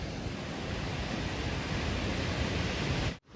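Steady, loud broadband rush of a waterfall beside a sandy mountain trail in Himachal Pradesh, filling the scene without a break for about three seconds before cutting off abruptly, with no voices.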